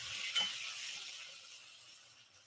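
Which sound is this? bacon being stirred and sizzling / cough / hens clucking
bacon being stirred and sizzling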